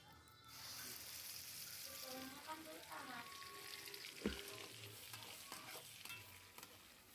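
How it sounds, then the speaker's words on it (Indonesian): Quail eggs in balado chili sauce sizzle and fry in a pan, with a steady hiss and occasional scrapes of a spatula stirring, close and continuous, with no talking. "Nah, kita tumis sebentar saja supaya lebih tercampur ke telurnya."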